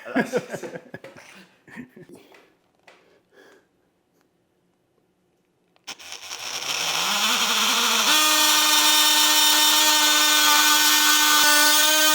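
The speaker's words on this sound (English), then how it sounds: "My plan is to cut the pipe" A power tool cuts through a copper water pipe during a kitchen remodel, starting abruptly after some talk and a pause, then settling into a loud, steady, high-pitched whine with a strong droning tone that runs to the end.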